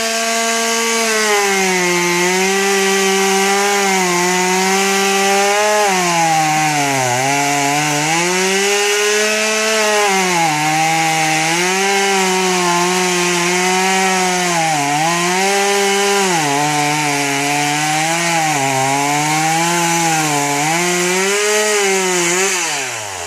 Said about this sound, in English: He's having fun with the saw blade already.